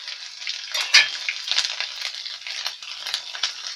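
Green chillies and whole spices crackle as they fry in hot oil for a chickpea chole curry, a close, busy sizzle with sharp pops and stirring scrapes throughout.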